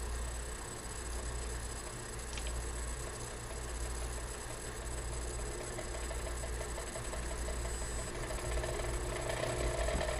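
A magnetic stirrer spins a stir bar on a lab hotplate after being turned up, giving a steady, close, continuous hum with a faint rattling texture that holds evenly throughout, with no talking.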